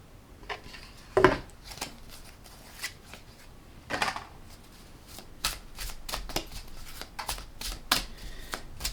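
A tarot card deck being shuffled up close, with quiet crisp riffles and card slaps at first, then a faster run of sharp flicks toward the end.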